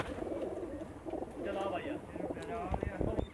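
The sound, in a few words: pigeons cooing in a loft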